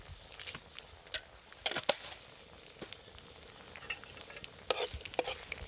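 Bay leaf, dried chilli and whole garam masala sizzle in hot oil for a village-style country chicken curry, a soft steady hiss broken by scattered crackles and a few louder pops, with no talking.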